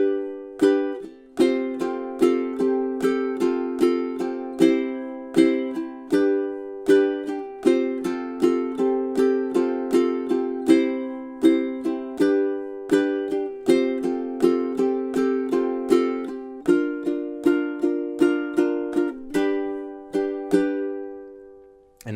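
Ukulele strumming the bridge of a song, steady rhythmic chords in repeated bars, clear and close, played alone for about twenty seconds before a final held chord.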